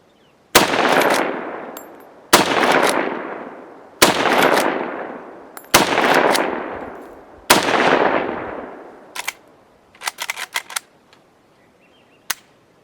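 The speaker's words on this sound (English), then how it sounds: "with one of these rifles to shoot at a target that far away. 50 meters." Five sharp rifle reports from a Winchester Model 64 fired at a 50 meter target, evenly spaced about two seconds apart, each with a decaying echo tail, followed by fainter metallic clicks of the action.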